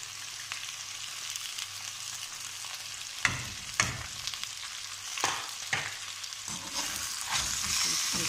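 Ground spices stirred into tomatoes, garlic and green chilies in a frying pan, with a steady sizzle of oil and several sharper scraping strokes of a spoon, close up and alone without voices.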